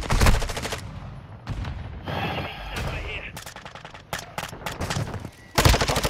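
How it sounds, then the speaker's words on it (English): Gunfire in a Call of Duty match on the Vondel map, loud rapid automatic bursts alternating with short pauses and mechanical clanks, close and dense, with brief voice chatter in places. "Taking effective fire!"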